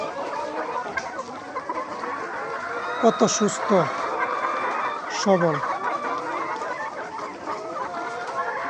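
Layer hens cluck in a busy chorus on a poultry farm, with a few sharper calls rising close by while someone talks over the flock throughout.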